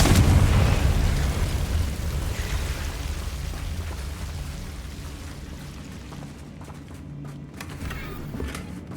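A Confringo spell goes off in the Hogwarts Legacy video game as a heavy explosive rumble that starts loud and slowly dies away, followed by faint crackling debris.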